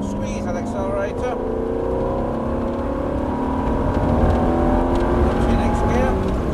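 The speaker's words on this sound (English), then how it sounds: "Okay, back on the power again then. Squeeze that accelerator." A Ferrari on an airfield track accelerates under power, its engine droning loud and close with rising harmonic whine and building roar as revs climb, while someone talks over the engine throughout.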